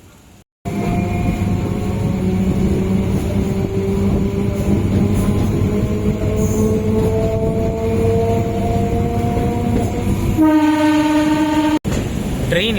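The Sendur Express train rolls past a station crossing near Kuttalam with a steady loud rumble and clatter, then a sharp blast of its horn near the end.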